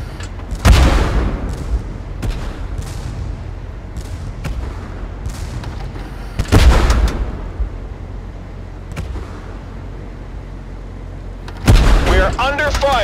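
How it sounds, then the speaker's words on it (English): A tank in Tank Force comes under fire: three heavy booming impacts land several seconds apart, with lighter shots and thuds scattered between them. "We're under fire!"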